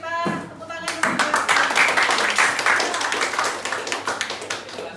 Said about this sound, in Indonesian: Sebelum itu kita tepuk tangan dulu.